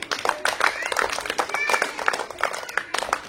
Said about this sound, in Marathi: मग जोरात टाळ्या घ्या बरं